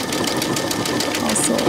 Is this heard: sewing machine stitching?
yes